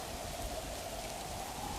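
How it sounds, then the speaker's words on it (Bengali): Steady rain pours down in a Bengali cartoon, a dense, even hiss that holds without a break and carries no voices over it. "হঠাৎ বৃষ্টি চলে আসে।"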